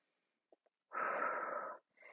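A single long, breathy exhale during a Pilates reformer exercise, close and clear, lasting nearly a second, with a couple of tiny clicks before it and another breath starting at the end.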